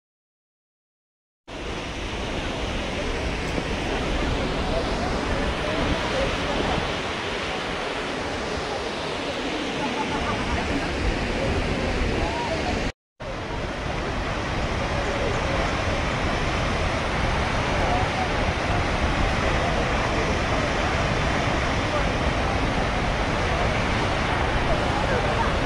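Athirappilly waterfall in Kerala roars from roughly 400 metres away, a steady broadband rush that fills the scene with a brief cut partway through.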